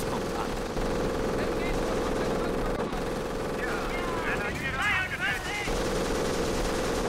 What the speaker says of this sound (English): So we got mortars and a machine gun shooting at those guys